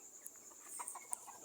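Backyard chickens clucking softly in a rural yard set away from houses, with scattered short calls at close-to-moderate distance over a steady high-pitched insect drone.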